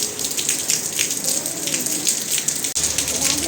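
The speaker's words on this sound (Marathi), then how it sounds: "बाहेर आहे ना खूप पाऊस सुरू आहे सध्या." Heavy rain pours steadily outside a newly opened hotel, a dense hissing wash of drops on surfaces heard close and loud, with speech mixed in.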